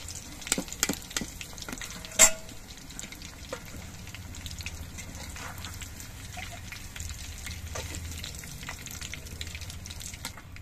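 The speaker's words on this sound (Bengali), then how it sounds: "একইভাবে আমি সবগুলো মাংসই ভেজে নিচ্ছি।" Chicken pieces for chilli chicken deep-frying in oil in a kadai, giving a soft continuous sizzle and scattered pops, with one sharp metallic clank early on and occasional utensil taps.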